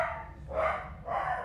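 A pet dog barks twice in a home kitchen, short bright yelps spaced about half a second apart, fairly close and clear with no talk over them.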